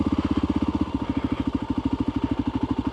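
A Voge 300 motorcycle being paddled through deep mud runs with a close, steady low chugging beat, its rhythm briefly loosening before settling again.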